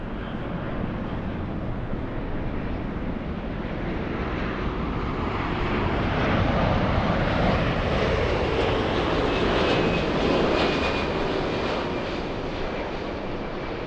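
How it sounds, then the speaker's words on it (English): A United Boeing 787-9 lands at LAX after a flight from Narita. Its broad jet roar holds steady, swells louder midway, then eases slightly, heard alone with some wind buffeting. "We're looking at United 33 flying in from Narita. A 787-9 doing the flight"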